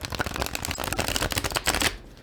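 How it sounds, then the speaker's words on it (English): Tarot cards riffle-shuffled by hand, a dense rapid flutter of flicking card edges lasting nearly two seconds, close and crisp, ending abruptly into quiet; no talk. "Some tarot tubers can do that, can riffle shuffle from the side."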